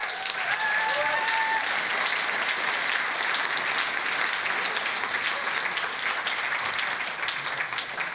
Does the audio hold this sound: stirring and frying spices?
no